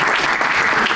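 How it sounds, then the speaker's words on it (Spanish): Dense, steady audience applause at a music-industry conference session, loud and continuous from start to finish with no talk over it. "Un aplauso para él."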